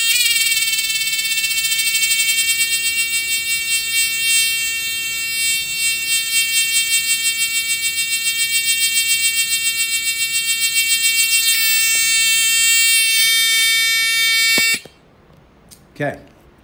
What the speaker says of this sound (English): When that buzzer goes away from you, the wavelengths are getting stretched out, so the pitch of the buzzer decreases.